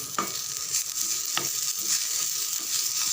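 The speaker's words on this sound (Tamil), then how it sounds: "கொத்தமல்லி இலையை அப்படியே சேர்த்து வதக்கணும்" Fresh coriander leaves sautéed in a pan, a steady bright sizzle with a few sharp scraping strokes of a spatula at irregular intervals, no one speaking.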